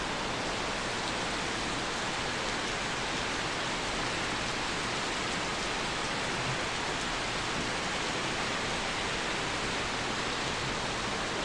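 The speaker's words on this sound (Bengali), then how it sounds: "ওই যে টিনের চালে টুপটুপ রিমঝিম বৃষ্টি" Steady rain pattering on a tin roof, a dense continuous hiss with soft drumming, no voices.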